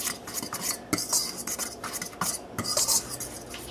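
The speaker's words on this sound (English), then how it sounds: "a half teaspoon of salt, and we stir this together" Dry gordita dough ingredients with salt stirred together in a bowl, a steady scraping and clinking of a utensil against the side, close and fairly quiet, with a few sharper knocks along the way.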